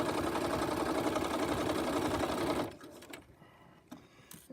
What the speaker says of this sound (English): Notice how she's not sewing over her pins.